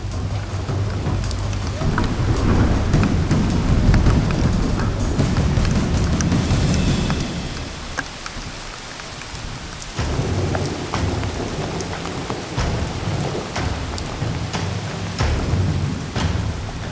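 Heavy rain pours steadily on a log house construction site in Montana while low thunder rumbles repeatedly, fading briefly in the middle before the downpour and rumbling pick back up.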